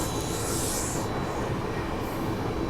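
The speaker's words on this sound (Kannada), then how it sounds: "ನಮ್ಮ ಟ್ರೈನ್ ಆರಾಮ್ ಸ್ಪೀಡ್ನಾಗ ಹೊಂಟಿದೆ" The Rani Chennamma Express runs at speed, heard from inside a first-class AC coupe as a continuous low rumble and broadband rushing noise, steady and unbroken throughout.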